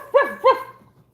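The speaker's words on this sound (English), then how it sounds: "You hear the dog barking?" A dog gives two quick, sharp barks close by, followed by a brief quiet tail, with no talking over them.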